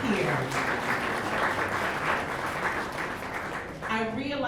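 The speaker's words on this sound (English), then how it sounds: "give yourselves a round of applause for being here" Outdoor crowd at a Juneteenth celebration in historic Hannibal Square bursts into steady, dense applause that fills most of the moment, with a voice starting to speak over it near the end.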